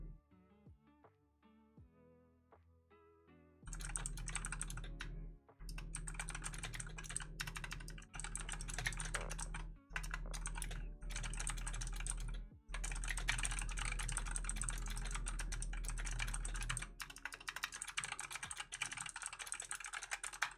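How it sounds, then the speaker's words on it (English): Steady bursts of rapid typing on a computer keyboard, loud and close, running in long stretches separated by brief pauses, following a few sparse soft clicks at the start. "Enjoy some typing ASMR."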